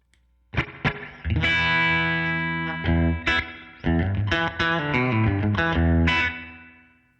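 Clean electric guitar rings out through a Line 6 Stadium XL modeling a Twin Reverb amp with lush reverb, strummed chords and single notes sustaining between short pauses.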